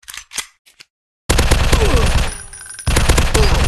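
Rapid bursts of automatic gunfire in the zombie shooter game Zombies Fire Strike, loud and dense after a few short sparse shots and a gap, with a brief lull before firing resumes.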